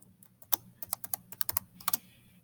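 Keystrokes on a computer keyboard while labelling a map in Google Slides, a dozen or so crisp, irregular clicks in short bursts, close and fairly quiet, with no talking.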